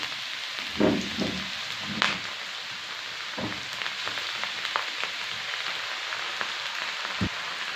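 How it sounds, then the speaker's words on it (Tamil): Onion pakoda batter fries in hot oil with a constant close crackling sizzle, like light rain. A few louder pops and splutters stand out as the pieces are added. "நம்ம மிக்ஸ் பண்ணி வச்சுருக்கிற வெங்காயத்தை இந்த மாதிரி உதிரி உதிரியாக ஆட் பண்ணிக்கோங்க."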